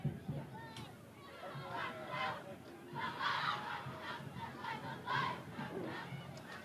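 A football crowd cheering with cheerleaders rallying fans during a timeout at a Thanksgiving Day high school game, Cherry Hill West versus East, with rising and falling waves of shouts and chants filling the stands.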